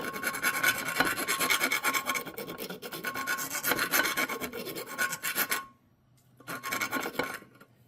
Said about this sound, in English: So we're going to get this round file.